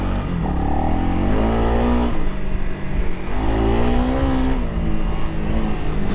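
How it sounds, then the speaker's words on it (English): A 2022 Honda CRF300L Rally motorcycle's single-cylinder engine revs up and down twice while riding off-road, close and loud, with rising and falling pitch sweeps. "off-road test of the Honda 300L Rally"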